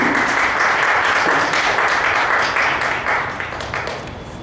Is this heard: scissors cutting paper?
no